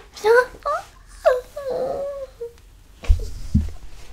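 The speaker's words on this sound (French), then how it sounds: "Il y a mon chat qui veut rentrer." A house cat meows at the door wanting to be let in, a few drawn-out, wavering cries close by, followed by a couple of soft thumps.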